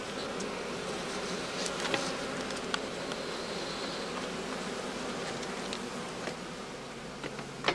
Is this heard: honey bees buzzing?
yes